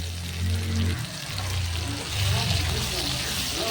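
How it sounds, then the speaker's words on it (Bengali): Ground spice paste made from ripe chilli and garam masala sizzles and spatters in a hot pan, a close, wet frying hiss with low rumbling stirring surges. "মশলাগুলো ঢেলে দিলাম তো এখন ভালো করে কষিয়ে নেব মশলাগুলো"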